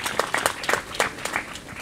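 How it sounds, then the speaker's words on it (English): Wedding guests clap together in a steady, scattered patter, moderately loud and close, without voices over it. "Let's clap our hands and celebrate these"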